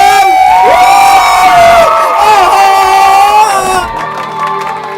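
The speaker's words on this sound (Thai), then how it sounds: "ขอเสียงปรบมือให้กับ น้องๆวงเกิร์ลเจเนอเรชั่นครับผม" A loud crowd cheers, shrieks and whoops for dancers from a Korean girl group on stage at a show in Chai Nat, Thailand, a sustained roar of high voices that thins out near the end.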